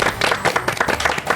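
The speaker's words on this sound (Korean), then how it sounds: "박수!" Brief burst of lively applause from a small group in a studio setting, as youth quiz winners on a Korean democracy program are announced, many overlapping claps, close and fairly loud.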